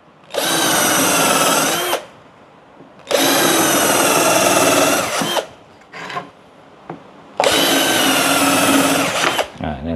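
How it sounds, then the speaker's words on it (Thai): Power drill counterboring oak with a two-stage bit, three loud sustained whining bursts of about two seconds each separated by pauses, with brief lighter drill blips between them. "เดี๋ยวเราก็เจาะคว้านลงไปนะครับอันนี้ใช้ดอก2ชั้น"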